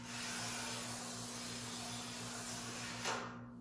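A glass cutter scores a circle into thick 6mm glass, a steady close gritty hiss of the wheel pressing hard, with a slight swell near the end before it tails off.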